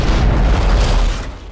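A rocket launcher blast blows up a room in Hitman Absolution: a loud, dense boom with rumbling low end that holds steady, then trails off briefly at the close, with no talk over it.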